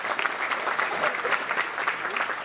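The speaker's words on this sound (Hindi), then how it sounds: "और रब्बानी भाई के लिए एक बार जोरदार तालियों चाहिए।" Enthusiastic audience applause at an award ceremony honoring a tabla maestro, a dense, sustained clapping from a crowd, fairly loud and even throughout.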